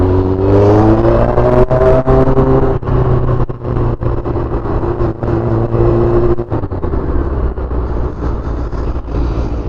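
Honda CBR 600 F motorcycle cruising on a highway, its exhaust droning steadily and loud with wind rush, engine pitch easing slightly as the bike shifts, continuous throughout.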